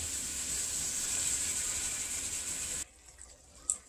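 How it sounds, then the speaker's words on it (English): Two cups of water pour into rice being cooked for a Haitian dish with salted cod, okra and coconut milk, a steady splashing gush lasting about three seconds before cutting off into a quiet kitchen with a faint clink. "I'm gonna add 2 cups of water for the rice."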